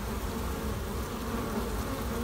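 A dense, steady buzzing of many honey bees foraging on alfalfa during a nectar flow fills the air, continuous and close, with no voices.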